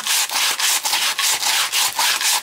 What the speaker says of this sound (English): sanding it back and forth like this